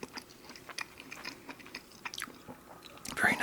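Close, quiet chewing and biting of a Tim Hortons garlic supreme stack sandwich with beef, cheese and onions, soft irregular crunches and mouth sounds, louder near the end.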